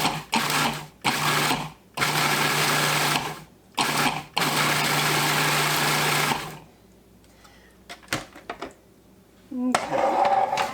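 A Cuisinart food processor grinds oats into fine flour, running in several short pulsed bursts and then one longer continuous whirring run before falling quiet, with a brief restart at the end.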